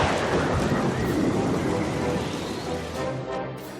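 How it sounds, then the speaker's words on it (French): Steady, dense wash of rain noise in the animated series My Little Pony, loud and continuous, with a faint low rumble underneath and no voices. "C'est juste un peu de pluie."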